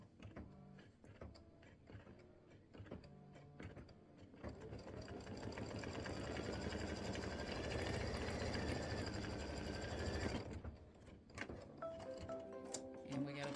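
An embroidery machine stitching an appliqué tack-down on a Valentine bear paper towel holder design, a fast rapid needle rattle building over several seconds then stopping, with speech before and after.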